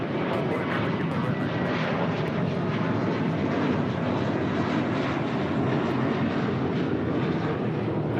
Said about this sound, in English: That is American Airlines Flight 612 departing to Orlando on an A321